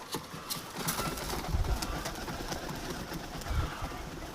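Pet pigeons coo in low, soft repeated bursts around a backyard loft, with light fluttering and ambient rustle, moderately close and continuous without talk.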